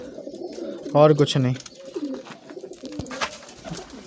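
Pigeons coo nearby in soft, throaty bursts, one clear warbling call standing out, while a person speaks briefly in between.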